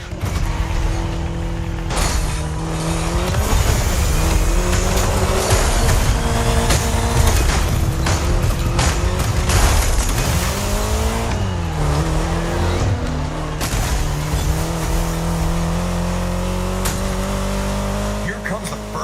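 An Austin Mini Cooper S driving in the racing game The Crew Motorfest, its engine loud and continuous, with rising and falling pitch as it revs through gears, plus mechanical creaks and a thud near the end.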